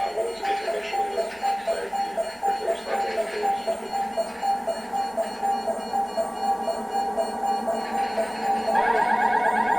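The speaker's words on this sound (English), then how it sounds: "Don't ignore the alarms." Electronic alarms sound in a repeating pulsing pattern, a steady cycling tone that continues through the clip and turns into a faster warbling beep near the end, with people talking faintly underneath.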